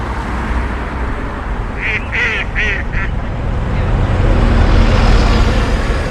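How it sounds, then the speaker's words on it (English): A few nasal duck quacks sound in a short burst of about four calls at a carp fishing spot, over a constant background rumble of road traffic. "Ducks have found me boilie patch."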